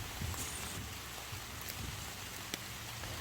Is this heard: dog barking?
no